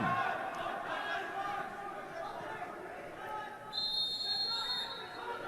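A referee blows a sharp dead ball whistle at a Cleveland State versus Ohio State lacrosse game. It is a single sustained blast lasting about a second, heard late over a murmuring crowd and a commentator's talk.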